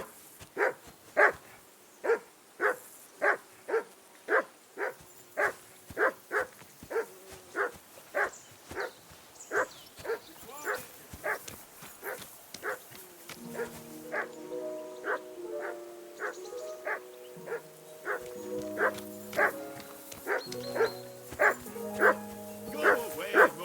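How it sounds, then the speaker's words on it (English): A dog in the Kingdom Come Deliverance 2 video game barks in a long run of evenly spaced sharp yips with occasional whimpers, close and clear, while a voice speaks over the later barks. "Do something with that mutt, Henry."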